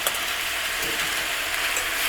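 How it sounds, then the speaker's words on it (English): XO prawn vermicelli sizzles in a hot pot while camping, giving a close, steady, hissing crackle that stays even throughout. "Oh, look at that sizzle."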